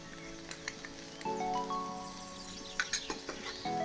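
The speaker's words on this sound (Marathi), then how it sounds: "आणि भेंडी व्यवस्थित अशी हलवून घेऊया" Salted okra fries quietly in a pan as it is stirred, with a soft sizzle, occasional scraping taps and a faint tonal hum partway through.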